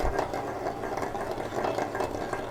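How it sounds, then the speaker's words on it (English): Butter is stirred into a sauce on the stove with a steady, busy scraping and swishing rhythm, close up and continuous, with light sizzle beneath. "I'm gonna do this until all the butter is incorporated"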